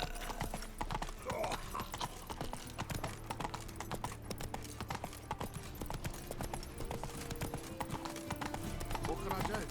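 Hooves of a horse clip-clop in steady rhythm in The Witcher 3, a continuous trotting patter at moderate volume that runs through the whole stretch, with an occasional snort and quiet game sounds beneath it.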